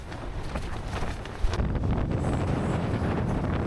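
Strong wind buffets a microphone on the summit of Meikle Bin in Scotland's Campsie Hills, producing a steady, loud, low roar that thickens and grows heavier midway.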